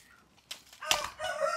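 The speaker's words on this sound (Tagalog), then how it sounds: "grabe ba yung tilaok nila, sabay-sabay pa" Backyard roosters crow together, one loud crow bursting out and a second joining it, close by and fairly loud, with a brief flutter of wings and no voices.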